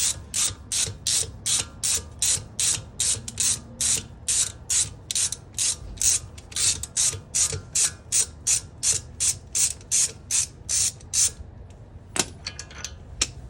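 A hand ratchet clicks in fast, even bursts as bolts come off a 2006 Jetta TDI with the BRM diesel engine during EGR cooler removal, about two dozen sharp strokes close up, then a pause with light metallic handling.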